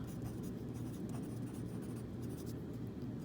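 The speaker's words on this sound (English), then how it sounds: "So we're just going to write," Faint pencil-on-paper scratching comes in quick, uneven strokes during a math lesson, soft and close in a quiet room.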